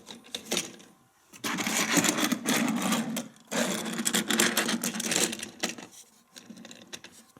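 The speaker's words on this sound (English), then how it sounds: "Going up the elevator" The motorized elevator of an Adventure Force Ultimate Dino City Garage toy playset lifts toy cars with a steady, buzzing motor whir, running in long stretches broken by brief pauses.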